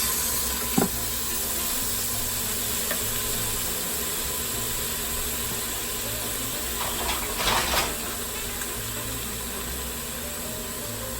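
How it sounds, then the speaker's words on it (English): Beef sears in an Instant Pot for paprikash, a steady low sizzle running throughout with a couple of brief clinks and stirring scrapes, close and fairly quiet, no talk. "We just want to get a nice little sear on it."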